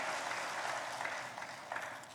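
Congregation applauding during a Sunday church service, a steady dense wash of many hands clapping together at moderate distance, sustained evenly with no talk over it.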